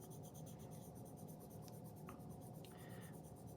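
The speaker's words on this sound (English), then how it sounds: "To burnish, I just take my yellow and I just press harder." A yellow colored pencil burnishes paper under medium to heavy pressure, making a continuous, close scratchy rubbing with faint rhythmic strokes. No one speaks.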